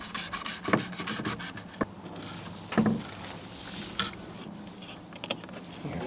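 A knife works a fillet off a small sting ray, producing close, soft rasping and rubbing strokes in an irregular rhythm with brief scraping bursts along the cartilage, quiet and without speech.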